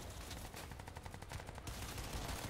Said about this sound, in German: das ist ein dickes Maschinengewehr